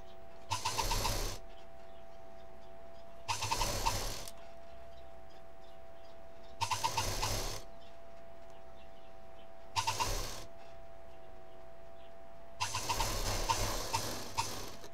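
A sewing machine stitches fabric for a khadi-style bag in five separate bursts of rapid mechanical whirring, each a second or two long, with quiet gaps between them, close and without talk.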